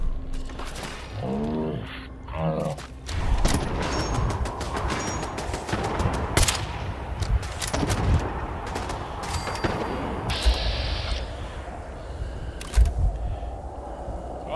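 Gunfire during a Rust Devils raid at Kingsport Lighthouse in Fallout 4 on PS4, with sharp shots and rapid bursts of fire cracking out irregularly over a dense, loud battle din.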